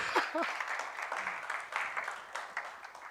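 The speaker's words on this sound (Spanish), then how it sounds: "Dele un aplauso al Señor, por favor." Applause from a church audience fills the whole stretch, a moderately loud, even patter of many hands, with a short voiced sound near the start.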